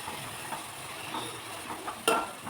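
Fenugreek curry bubbles and simmers in a pot, a soft, steady sizzling hiss with faint popping and one brief louder clink near the end, heard close and quiet without talk.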